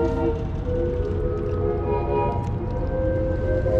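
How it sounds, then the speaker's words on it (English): A distant boat whistle sounds across the water from a riverbank fishing spot, a sustained, tonal hoot held for several seconds over a steady background rumble, with no speech. "y'all hear that whistle boat over yonder."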